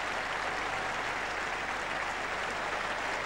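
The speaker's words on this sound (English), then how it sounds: "Applause for Geoffrey Boycott" Steady applause from the crowd at a 1981 Test match at The Oval, acknowledging a batsman's half century; a dense, even patter of clapping that holds throughout without pause, with no one speaking over it.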